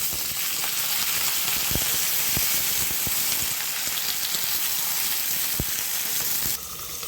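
Flat beans with garlic fry in hot oil, a steady close sizzle with occasional sharp pops and spits, and no voices.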